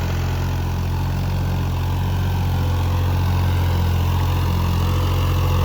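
A New Holland 3600 tractor engine runs steadily in a wet field, a continuous low droning hum at constant speed with no talk over it.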